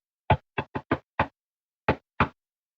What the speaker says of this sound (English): When they arrive, Wayne does a common door knock melody